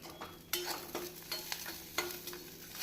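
Utensil scraping and stirring through tomato chutney ingredients with tamarind in a frying pan, with a soft sizzle underneath and a few sharper clinks of the spoon against metal.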